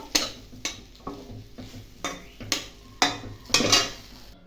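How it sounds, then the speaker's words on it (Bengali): Ground biuli dal being stirred and sautéed in a pan for radhaballavi: a steady run of about nine scraping strokes, roughly two per second, each a short bright rasp of utensil on metal over a faint sizzle, close and alone. "ভালো করে কষিয়ে কষিয়ে এটা মিশিয়ে নেবো"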